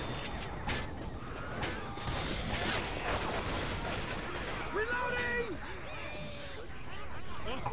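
Rapid gunfire from players shooting infected zombies in a co-op video game, steady bursts under constant game noise and overlapping voices.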